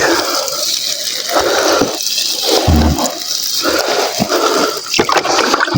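Water splashing and pouring in uneven bursts, close by, as diluted liquid fertilizer is drenched over celery plants and soil on a foggy morning.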